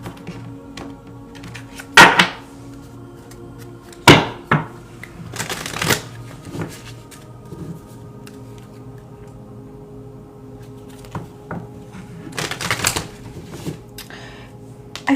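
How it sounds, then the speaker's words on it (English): Tarot cards are shuffled and pulled, with crisp riffling bursts and slaps of cards landing close by, scattered across the stretch with quieter gaps between. "we're going to pull a few more cards there."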